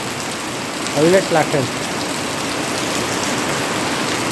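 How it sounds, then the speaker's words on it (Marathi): Heavy monsoon rain pours down in a Konkan village, a steady broadband hiss of water that runs through the whole stretch while someone speaks briefly near the start. "हवा पाऊस किती पडतो"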